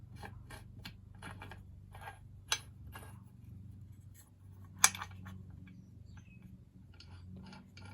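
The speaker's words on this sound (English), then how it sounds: "I'm going to thread this onto the end of the crankshaft." A nut is threaded by hand onto the crankshaft end of a STIHL MS462 chainsaw during bottom-end assembly, giving faint, scattered metallic ticks and light rubbing over a low background hum, with two sharper clicks standing out.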